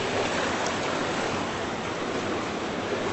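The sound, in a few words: creek water hitting a bridge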